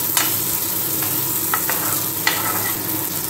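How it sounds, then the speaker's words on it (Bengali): Cashews and raisins frying in a hot pan for fried rice, a continuous close sizzle broken by a few quick spatula scrapes and taps, with no talking. "দিয়ে দিলাম কাজু কিশমিশ, দিয়ে একটু ফ্রাই করে নামিয়ে নেব"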